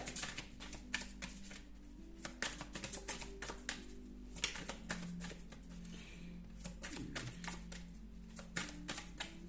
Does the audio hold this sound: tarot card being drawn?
yes